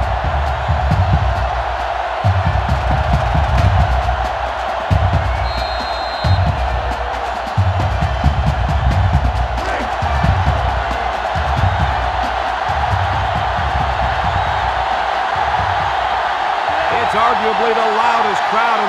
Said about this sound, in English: Arguably the loudest crowd in the nation,